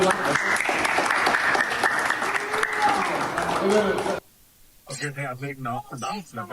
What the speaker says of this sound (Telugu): వన్ సెకండ్ అందరూ క్లాప్స్ కూడా.